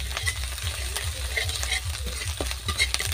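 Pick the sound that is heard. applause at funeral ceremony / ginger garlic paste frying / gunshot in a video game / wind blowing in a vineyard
ginger garlic paste frying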